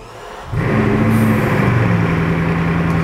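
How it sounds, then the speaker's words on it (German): A Bugatti Chiron's 16-cylinder engine starts up from quiet and settles into a loud, smooth, steady hum with a deep droning tone, heard close up inside the car. "16 Zylinder, die hinter dir arbeiten. Das hört man so richtig glatt an."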